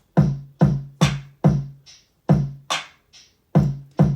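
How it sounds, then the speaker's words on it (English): A loud hip-hop kick drum thumps in a steady pattern of about nine punchy hits, each booming low with a quick snappy attack and short decay, one hit noticeably softer. "admittedly pretty loud kick drum."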